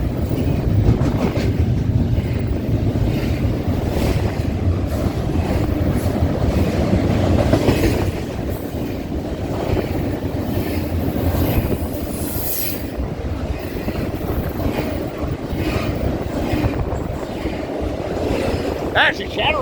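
A big freight train passes close by in Colton or Fullerton, a continuous heavy rumble of wagons with wheel clatter and occasional squeal running throughout, with some wind noise.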